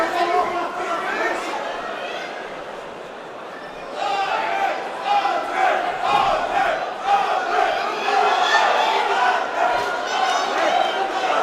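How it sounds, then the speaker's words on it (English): Swedish fans in a Manchester arena crowd at a Cage Warriors fight chant and cheer loudly, a sustained roar of voices that swells partway through, with commentary talk running over it. "the Swedish contingent making themselves heard here in Manchester"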